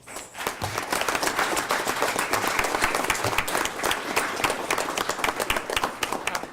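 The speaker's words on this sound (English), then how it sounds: "they deserve a huge round of applause for what they did." An audience at a regular public meeting gives a sustained round of applause, dense clapping that starts quickly and holds steady to the end.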